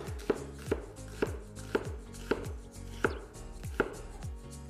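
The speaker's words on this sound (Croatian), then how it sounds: "Narezat ćemo ga na kockice." A knife dices an onion on a cutting board in a home kitchen, landing about seven sharp, evenly spaced chops with a steady rhythm, close and clear, with no voices.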